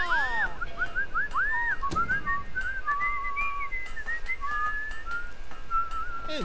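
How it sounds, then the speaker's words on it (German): A character in the video game Fable whistles a wandering, melodic tune, clear and prominent over a soft background ambience. "Ob wir das mit Pfeifen jetzt unbedingt hinbekommen?"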